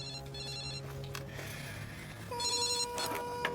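An electronic telephone bell rings in repeated bursts in an interior scene, steady and fairly close, with a brighter, louder burst of rings in the second half over a low background hum.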